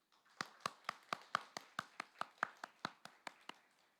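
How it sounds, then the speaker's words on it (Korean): A church congregation claps in encouragement, heard as a slow, evenly spaced run of about fourteen sharp claps, fairly close and clear, with no talking over them. "이 마음으로 박수로 한번 격려하겠습니다."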